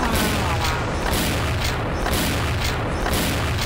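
Loud, dense booming gunfire from a Barrett sniper rifle in a video game, with sharp heavy reports following one another closely against thick, continuous battle noise.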